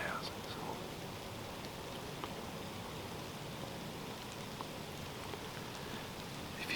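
Sleet mixed with rain and snow falls outdoors during a New York bow-hunting season, making a steady, soft, hissing patter that continues evenly throughout with a few faint ticks and no talk.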